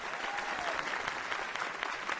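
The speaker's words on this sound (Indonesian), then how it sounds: "Tepuk tangan buat beliau." Audience applause during a roast event, a dense steady patter of clapping that holds at an even level throughout, close and fairly loud with no voices on top.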